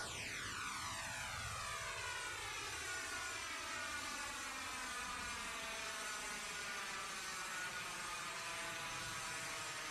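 A propeller aircraft engine climbs steadily after takeoff in a flight simulator game, a loud continuous drone with rising whine and shifting harmonics, alone with no talk.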